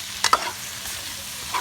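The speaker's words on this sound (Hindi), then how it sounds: "अब इसको अच्छे तरीके से हम मिक्स कर लेंगे" Spices are stirred into bitter gourd and onion frying in a pan, a continuous close sizzle broken by two quick spatula scrapes near the start and another at the end, with no speech.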